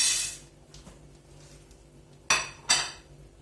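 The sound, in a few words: manti dumplings being added to a pot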